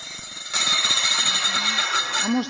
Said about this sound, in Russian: Так, пила, поехали.